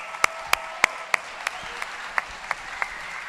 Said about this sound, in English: let's give a big round of applause for Monte Belmonte